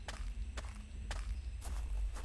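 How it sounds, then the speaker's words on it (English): Echoing footsteps cross a prehistoric hunting game world, with four or five evenly spaced steps over steady low rumble, moderately close and without talk. "you can hear those footsteps echoing out"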